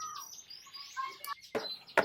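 Lizard canaries chirp and twitter in quick, bright bursts, with a few louder sharp calls near the end, close by and without talk.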